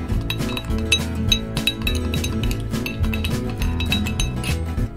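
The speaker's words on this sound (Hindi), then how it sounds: "अब थोड़ा सा और स्टर कर लेंगे सबको इकट्ठा." Ice and glass clink as a whisky cocktail is stirred in a glass, a steady run of light, close chinks over continuous background music.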